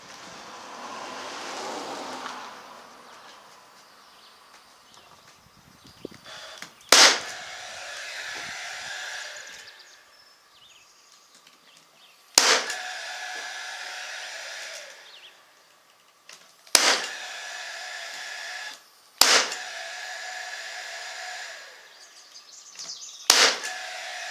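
A 16 gauge pneumatic nailer firing 1.25 inch nails into trim bead on a kitchen banquette gives five sharp, loud snapping shots spaced several seconds apart, with quiet air hiss and handling sounds between them.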